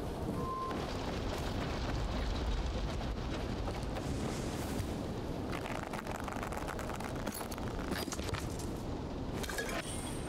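Dense, continuous blast of explosions and shattering debris from the zombie action game Dying Light 2 Stay Human, loud and sustained throughout with crackling bursts and no pauses.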